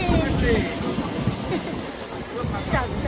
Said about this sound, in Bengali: হঠাৎ করে দেখছি ট্রেন ঢুকছে